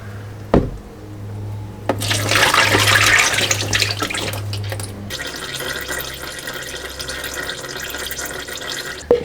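Transmission fluid pours and splashes steadily into a catch pan beneath a Porsche Cayenne Diesel 3.0 TDI with an Aisin 0C8 gearbox during a DIY service, close up, with a low hum and occasional clunks.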